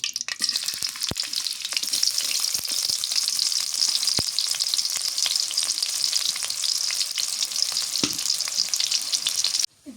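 Eggplant fries in hot oil for a hilsa fish curry, a loud close sizzle with repeated clicks and scrapes as it is stirred, ending in a brief knock.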